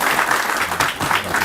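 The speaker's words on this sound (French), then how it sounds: "je vous demande de l'applaudir fort" An audience at a partnership signing between a hotel and tourism school and a French organisation applauds loudly in a brief burst of close, dense clapping.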